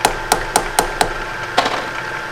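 Metal hammer striking a steel Eaton Fuller countershaft plate part in a shop, six sharp ringing blows at a steady pace, then one last hit after a short pause.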